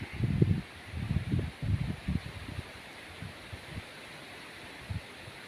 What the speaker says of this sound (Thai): ลมพัดแรงเหมือนกันครับ